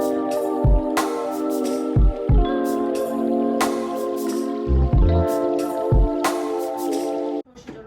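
Excess water drains off pickled vegetables set aside while kimchi is made, with close, irregular drips and a few soft squishy splashes scattered throughout, ending in a brief louder knock.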